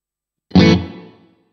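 A guitar played through a Strymon Cloudburst reverb pedal set to a longer decay: one loud struck chord whose tail swells and fades smoothly over about a second before the silence returns.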